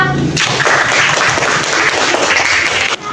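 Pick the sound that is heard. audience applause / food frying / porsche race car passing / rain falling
audience applause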